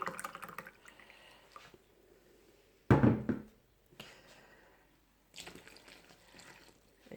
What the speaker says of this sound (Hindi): दूध वाले गिलास में वाटर ले लेती हूँ, गर्म पानी।